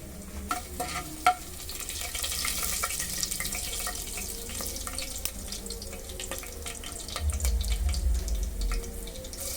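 Whole spices frying in oil in a pan for vegetable kichidi: a steady, fairly loud sizzling hiss with stirring scrapes and a few sharp clicks throughout, no talking.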